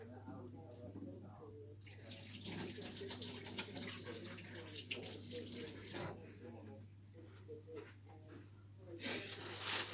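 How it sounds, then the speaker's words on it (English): Hands washed under a running kitchen tap, a bright splashing water stream that starts after a quiet moment, continues for several seconds, pauses briefly, then resumes, close by with faint breathing underneath. "just give my hands a quick wash"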